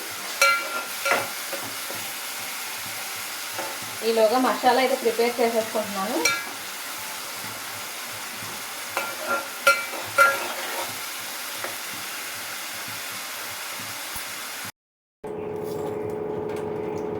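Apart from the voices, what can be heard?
onion frying until golden brown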